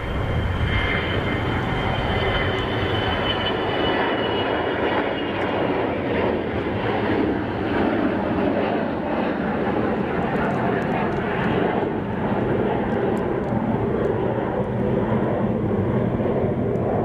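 An airliner departs Zurich Kloten airport in a steep climb, its engines giving a loud, continuous roar with a steady high whine throughout.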